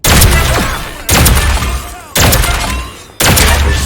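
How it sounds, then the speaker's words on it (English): A pump shotgun loaded with slugs in Deceive Inc. fires four booming shots at roughly one-second intervals, each followed by a long rumbling decay that nearly fills the gap before the next blast. "let's switch to the slug mode on the first shotgun"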